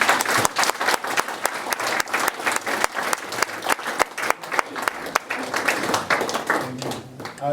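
Sustained audience applause for lecturer Marika Sherwood at the close of a Len Garrison Memorial Lecture on Black British history, dense steady clapping from a hall crowd that continues throughout with slight thinning toward the end.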